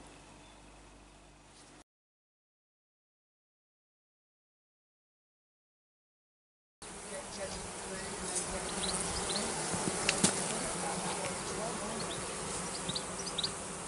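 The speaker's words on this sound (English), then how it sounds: "there's thousands of bees in here" A dense, steady buzz of thousands of honey bees in an open hive close by, continuous after a brief gap of silence.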